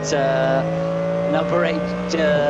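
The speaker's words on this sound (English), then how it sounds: "Mercedes GT3 threads its way through" A Mercedes GT3 race car on the track at a VLN endurance race, its engine a loud, steady drone with gear shifts, under a commentator talking.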